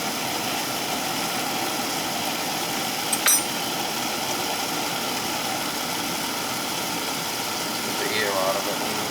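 A home oil burner runs after being switched on, giving a steady low mechanical drone throughout. A brief click sounds partway in, and faint voices are heard near the end.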